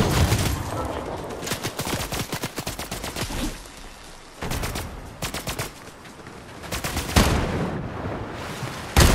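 Rapid, loud volleys of weapon fire in Fortnite, played in VR, crackling in dense bursts with short gaps between them and little else audible.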